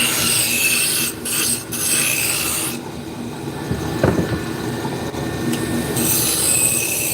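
Train passing nearby, a continuous loud rumble of rolling railcars with grinding, rasping wheel noise and squeals, steady throughout and without talking.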